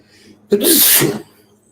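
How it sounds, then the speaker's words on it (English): A single sharp sneeze bursts out loud and close, then fades quickly. "It's the second time I sneezed today"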